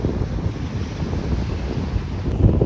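Steady wind buffets the microphone on a deserted Florida beach reachable only by boat, with waves washing in underneath in a continuous roar. The gusts strengthen slightly near the end, and no one speaks.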